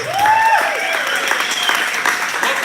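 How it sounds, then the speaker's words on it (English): Crowd applause with cheering voices, a steady wash of clapping that stays loud throughout. "One more round of applause for everybody involved."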